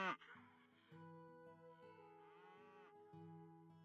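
A sheep bleats in the farming game Potion Permit, a long wavering cry over steady game music, loud and close, with a second quavering bleat partway through.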